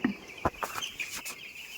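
A few short clucks from poultry farm chickens nearby, scattered and irregular, against a quiet background.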